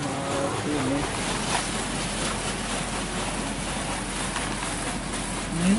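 A Water Wizard 1.0 automatic car wash runs at Sooner Car Wash, a steady rushing spray and hiss heard from inside the car under occasional quiet talk.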